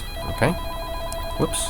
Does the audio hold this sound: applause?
no